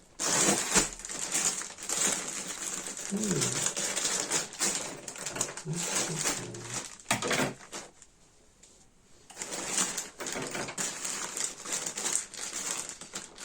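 Plastic packaging crinkling and rustling close up, in bursts with a brief quiet gap, and a short murmur from a voice.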